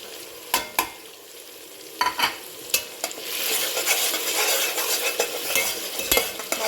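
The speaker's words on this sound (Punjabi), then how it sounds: "ਮਸਾਲੇ ਪਾ ਕੇ ਆਪਾਂ ਇੱਕ ਜਿਹੜਾ ਸੈਕਿੰਡ ਹੈ ਭੁੰਨ ਲਿਆ ਇਹਨੂੰ ਮਸਾਲਿਆਂ ਨੂੰ" Spices roast in a pan of fried tomatoes and chillies for Punjabi-style aloo gobhi, with a steady sizzle broken by sharp clinks and scrapes of a spoon stirring against the pan.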